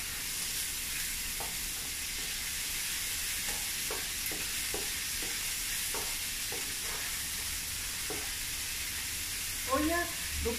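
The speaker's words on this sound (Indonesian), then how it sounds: "Kita tumis." Coarsely pounded cassava leaves stir-fried in a pan give a soft continuous sizzle with scattered light spatula scrapes, fairly quiet and close, a brief clatter near the end, no speech.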